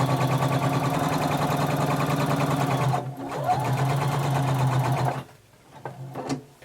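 A sewing machine stitches steadily through two aligned fabric layers along an edge and across the bottom, a loud continuous motor whir that stops briefly near three seconds, resumes, then cuts off, leaving quiet handling noises.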